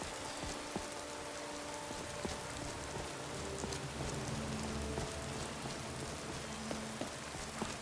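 Rain falls steadily in Skyrim Anniversary Edition, a dense, even patter spread across the whole stretch, with small scattered drop hits and faint game tones beneath it.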